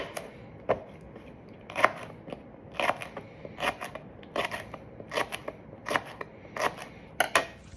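A knife chops jalapeño and serrano peppers on a cutting board for carne asada tacos, sharp close cuts landing in an uneven, unhurried rhythm of about a dozen strokes.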